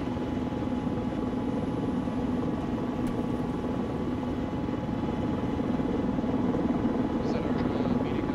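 A helicopter in a military video game thrums steadily as troops disembark, a constant rotor drone filling the scene with voices talking over it.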